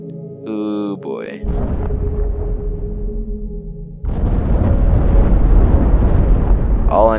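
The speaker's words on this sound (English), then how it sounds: "All I'm hearing are lots of explosions" Explosions in the space simulation game Universe Sandbox 2, deep rumbling booms that swell into a loud, sustained roar, with short tonal game effects at the start and end.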